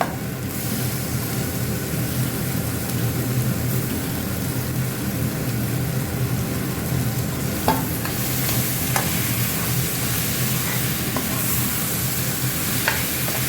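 Smashed fish pieces being stirred in a frying pan, a steady close sizzle with scraping spoon strokes and a few sharper clinks against the pan, continuous throughout with no talking.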